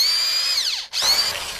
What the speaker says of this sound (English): Have you ever used a drill like that before?